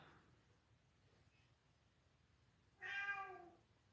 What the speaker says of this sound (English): That's a strange meow coming from him.